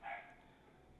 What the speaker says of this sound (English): I want to apologize for the dog barking.